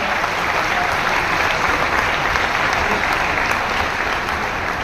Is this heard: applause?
yes